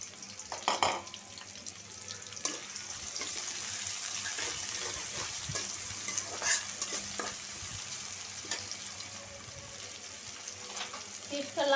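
Chopped onion and whole spices such as bay leaf fry in oil with a continuous close sizzle, broken by occasional stirring clatters and scrapes.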